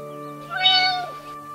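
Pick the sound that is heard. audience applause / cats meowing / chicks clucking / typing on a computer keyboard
cats meowing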